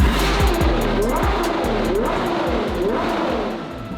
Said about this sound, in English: So now let's hear what this V12 sounds like before we build our custom exhaust.